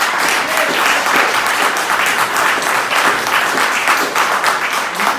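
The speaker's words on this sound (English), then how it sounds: "Let's give her a hand." An audience claps in sustained, dense applause, steady and fairly loud for the whole stretch with no voices rising above it.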